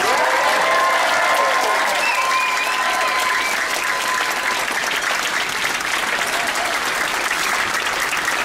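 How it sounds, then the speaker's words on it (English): Dinner audience in a cruise ship dining room applauds at a formal dinner on Odyssey of the Seas, a steady broad wash of many hands clapping that holds for the whole stretch, with a few cheers and whistles rising early on. "please give this amazing team a big round of applause"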